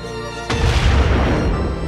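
A ghast fireball from Minecraft explodes in one sudden, loud, deep boom, then rumbles on through a long blast tail.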